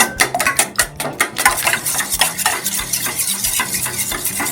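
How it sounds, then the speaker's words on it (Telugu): An egg being whisked in a bowl makes rapid rhythmic clinks and taps against the sides, dense and close, with no voice. "నెక్స్ట్ ఒక బౌల్లోని ఒక ఎగ్ తీసుకోండి. దీన్ని మంచిగా ఇలా కలుపుకొట్టేయండి."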